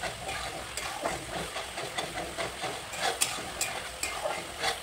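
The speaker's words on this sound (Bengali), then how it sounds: "চিকেনে যে মশলাগুলো মাখানো ছিল সেই মশলাগুলো দিয়ে আমি ভালো করে ভেজে নিচ্ছি।" Spice paste from marinated chicken fries for biryani, a soft, continuous sizzling hiss with repeated stirring scrapes at an irregular pace, fairly quiet and close, with no voices.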